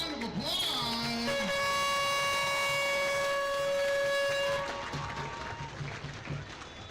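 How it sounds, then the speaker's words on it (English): A stadium crowd at an amateur soccer match claps and cheers in a broad, sustained wash while a long steady horn tone sounds over it, then the noise fades down. "United fans, give them one big round of applause."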